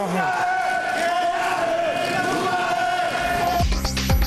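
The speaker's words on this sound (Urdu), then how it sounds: "اپوزیشن کی شدید نعرے بازی اور ہنگامہ آرائی میں" Opposition members chant slogans in an uproar inside the Sindh provincial assembly during a budget session, a continuous roar of massed voices with a sharper burst of shouting near the end.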